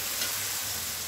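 Steady sizzling in a hot frying pan with soft scraping as a thick tomato puree for thokku is stirred, continuous and close, with no talking.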